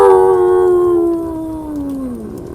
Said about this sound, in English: In the distance, you hear a slight howl.